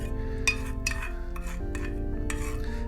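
A utensil scrapes vegan curd rice from a bowl in short, quiet strokes, with a few soft clinks against the dish and a low background hum.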